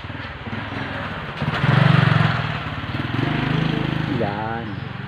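A small motor engine runs near a cave at San Martin, a loud buzzing drone that rises and dips, with people talking over it.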